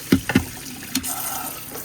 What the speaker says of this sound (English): Now we're gonna turn on the water here